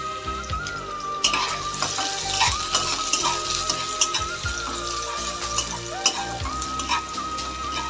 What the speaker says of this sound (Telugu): స్టవ్ వెలిగించి ఆయిల్ వేసుకొని వేసి ఫ్రై చేసుకోవాలి